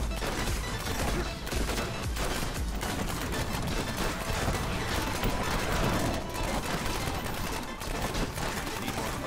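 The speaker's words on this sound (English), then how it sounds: "Homing missiles." Rapid, dense barrage of homing missile attacks in Diablo 3, a loud continuous crackle of impacts and bursts like sustained gunfire, with no pauses over several seconds.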